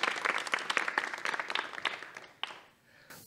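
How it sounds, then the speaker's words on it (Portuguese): A crowd claps steadily for a few seconds, the applause thinning and fading out near the end. "Palmas para Luz Ribeiro, por favor"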